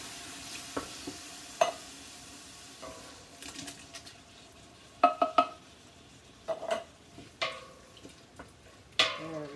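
Canned diced tomatoes go into a pot of simmering Mexican vegetable soup, with scattered clinks of metal and utensils against the pot and soft stirring over a low, steady background.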